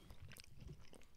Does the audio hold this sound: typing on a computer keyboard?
no